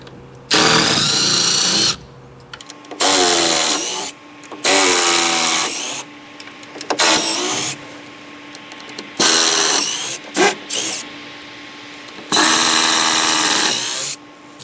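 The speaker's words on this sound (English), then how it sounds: "now we'll take out the 5/16 screws." A drill backs 5/16 screws out of the shipping crate of an OmTech Blue 100 W CO2 laser, with about six loud, close whirring bursts separated by short pauses and small clicks.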